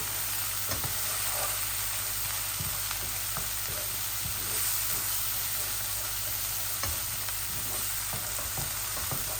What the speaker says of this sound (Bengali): এই মশলাগুলো ভাজা হয়ে গেলে